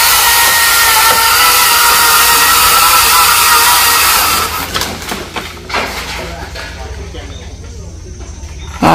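A chainsaw cuts loudly and steadily through a broken branch of an old fig tree, more than 200 years old, for about four seconds, then drops away to quieter rustling and scattered noise.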